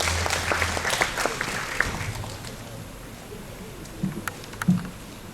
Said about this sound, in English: Let's give Mrs. Sunarain Singh a round of applause as she makes her way to the podium.